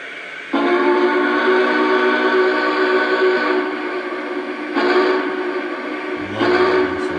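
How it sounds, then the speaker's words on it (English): A Lionel Vision Line Big Boy 4014 model train sounds its steam whistle in several long, loud, chord-like blasts with short breaks between them, heard up close and alone. "You want to start with the whistle?"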